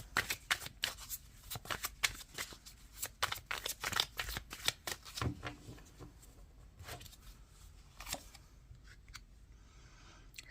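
Tarot cards shuffled and drawn by hand: a rapid run of crisp, close riffling and flicking card sounds, then slower scattered snaps and slides as single cards are pulled and laid down, no voice.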